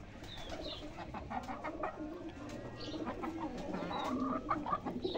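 Pigeons cooing softly at a farmyard with other birds, low soft calls repeating over steady outdoor background noise, with occasional higher chirps and some clucking nearby.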